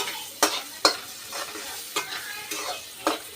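Rice for egg rice, seasoned with chili powder, gets stirred in a pan: six distinct scraping strokes, each followed by a soft sizzle, alone and close.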